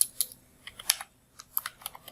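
Bengali text typed on a computer keyboard, with sparse, irregular clicky keystrokes in short clusters, quiet and close, with no voices.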